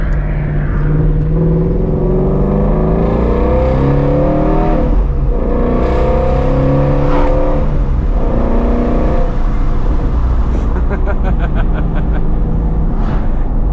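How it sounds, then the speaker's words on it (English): A Ford Mustang GT350R with its flat-plane-crank V8 pulling hard from inside the cabin, revving up through the gears with repeated rising sweeps and brief dips at each shift, loud and harsh throughout. "very angry sounding car in general."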